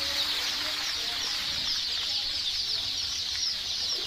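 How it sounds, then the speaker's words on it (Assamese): A crowded poultry stock room holds local chicken chicks that chirp in a constant, dense, high-pitched chorus. A faint low background murmur runs underneath the chirping. "ইয়াতে লোকেল মুৰ্গীৰ পোৱালি আছে।"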